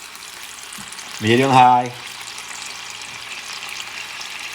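Bison London broil steak searing in a hot pan over medium-high heat, giving a steady, moderate sizzle throughout, with a short spoken phrase briefly over it near the start.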